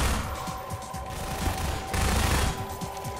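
SMG fired in Half-Life 2, a loud rapid stream of close automatic shots with rhythmic cracks, pausing briefly before resuming.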